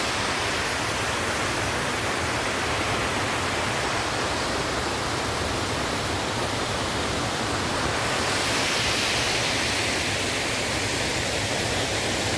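The Anjukuzhi waterfall gives off a continuous, loud broadband roar of falling water, dense and unbroken, with a slight shift in tone partway through and no voices.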